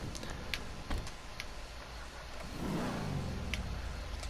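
A Truffade Z-Type sports car engine in GTA Online turns over and catches near the end, rising into a low rev after a few faint clicks and mechanical taps.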